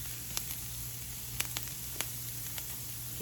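Vegetables sautéing in a pan with garlic, giving a steady, close sizzle with a few sharp pops and crackles over a constant hiss.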